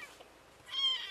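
A tiny kitten, a runt with swimmer's syndrome, gives a thin, high-pitched cry, short and fairly faint in a quiet room.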